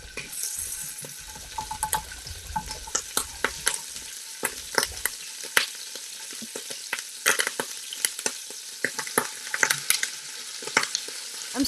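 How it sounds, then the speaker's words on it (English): Ginger, garlic and onions sizzle and fry in a pan on a home stove, with a steady close hiss broken by frequent sharp scrapes and clinks of a utensil stirring against the pan, and no talking. "as soon as the ginger garlic got a little bit sizzling, I added onions"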